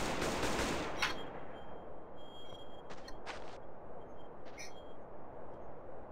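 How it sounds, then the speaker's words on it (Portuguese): An MP5 submachine gun from a GTA San Andreas weapon mod fires a short burst, followed by faint repeated shots and clicks over a low, steady background hum. "E a SMG, que é a MP5."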